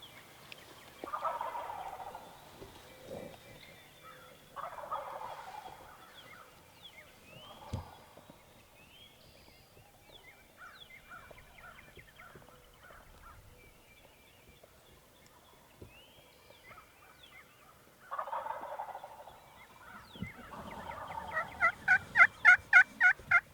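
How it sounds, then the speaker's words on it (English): Wild turkeys gobble in bursts amid a surrounding flock, with quieter clucks and purrs between and a rapid, loud gobbling volley at the end. "we're completely surrounded by turkeys."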